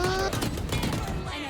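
Gunfire from the tactical shooter Valorant, a quick burst of shots within a busy game mix under a faint in-game tone, close and loud, no talk over it.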